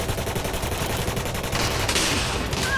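Rapid video-game gunfire rattles on as a continuous, dense burst of shots, loud and close, with no talking.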